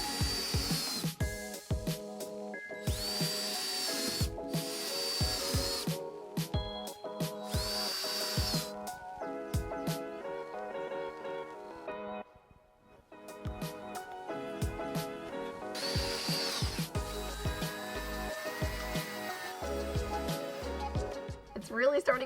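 A power drill whirs in repeated bursts, driving screws into pocket holes on the underside of a plywood vanity bottom, close and fairly loud, with pauses and clattering between runs and a voice talking over parts.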